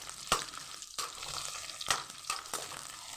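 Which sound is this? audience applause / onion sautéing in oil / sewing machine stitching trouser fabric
onion sautéing in oil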